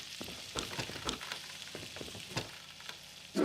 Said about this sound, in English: Still making sizzling noises.